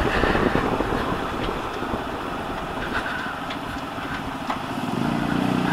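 A motorcycle engine drones steadily at cruising speed on a highway road trip, a continuous loud rumble with rushing wind noise and no talk.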